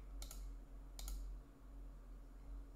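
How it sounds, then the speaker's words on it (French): Two quick computer mouse double clicks, close and crisp, over a low steady hum. "je clique dessus. Allez, clique à gauche."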